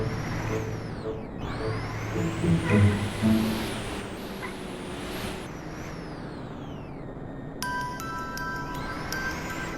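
A cartoon car drives along with a continuous engine drone, rising and falling whooshing sweeps as it speeds past, and a cluster of electronic tones near the end.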